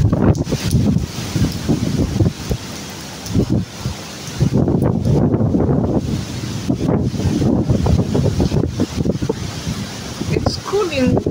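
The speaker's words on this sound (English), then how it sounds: "It's cool in windy, but it's really very dangerous." Strong wind from Typhoon Wipha at signal number 10 in Hong Kong roars steadily into the microphone with loud, buffeting gusts that barely let up.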